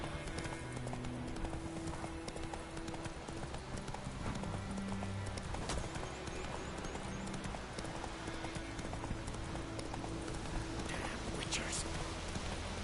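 Roach the horse trots with steady clip-clop hoofbeats through The Witcher 3, the rhythmic steps running throughout under quiet game music and a faint whispered voice.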